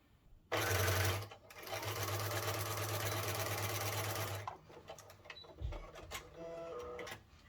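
A sewing machine stitching the seams of a fabric gift bag, a loud, fast whirring run that briefly pauses and resumes for several seconds before stopping, followed by quieter handling sounds.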